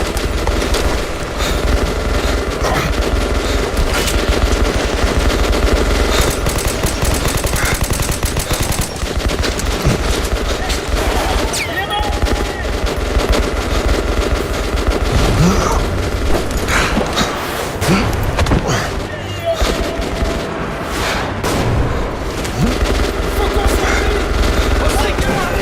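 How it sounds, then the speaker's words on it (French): Sustained suppressive machine-gun fire in the video game Metro Last Light, with dense, continuous bursts and loud rattling shots layered over booms and battle noise, while voices speak briefly in the background. "Tire de suppression."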